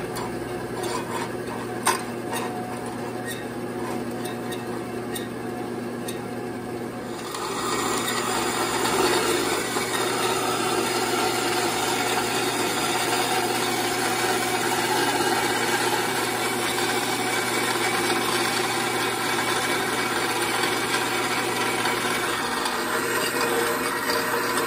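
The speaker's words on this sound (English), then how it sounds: "All right, it's time to cut some metal." A power tool cuts metal stock for a homemade drill point gauge; a steady whine and grinding rasp starts after a quieter stretch and then runs continuously and fairly loud.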